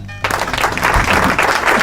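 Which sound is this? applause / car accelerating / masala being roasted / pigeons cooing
applause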